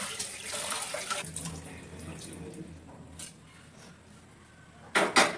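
Running water splashes and swirls close by in a basin as lentils are washed, with a faint knock, then a couple of brief louder sloshes near the end.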